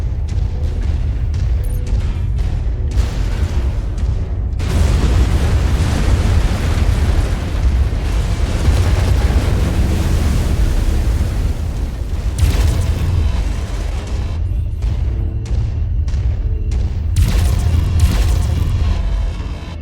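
Loud, continuous explosions and deep booming rumble as a base is destroyed in the video game MechWarrior 5: Mercenaries, with a sustained roar broken by fresh blasts.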